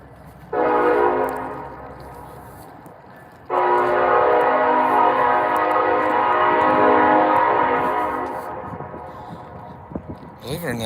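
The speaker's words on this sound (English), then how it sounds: "The train said hello." A loud train horn blares in two long sustained blasts, the second stretching several seconds before fading, with rumbling rail noise underneath.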